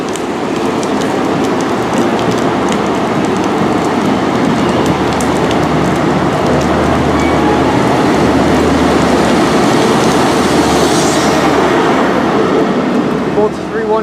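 A train moving through Reading station on the Great Western Main Line, a steady, loud rolling rumble with low mechanical drone that lasts throughout, mixed with a hiss like rain.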